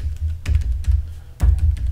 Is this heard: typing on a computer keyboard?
yes